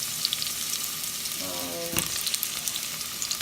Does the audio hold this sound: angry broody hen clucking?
no